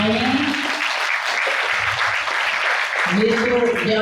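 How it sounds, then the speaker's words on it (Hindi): Audience applause at a Brahma Kumaris honour ceremony and gathering in Karnal, steady clapping throughout with a voice talking over it at the start and again near the end. "सभी जोरदार तालियां बजाएं।"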